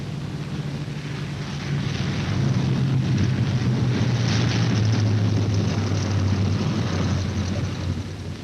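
A World War II B-17 bomber arriving at an airfield with its left inboard engine dead gives off a loud, steady propeller-engine drone that swells and holds throughout. Wind rushes across the microphone.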